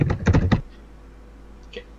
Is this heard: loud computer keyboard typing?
yes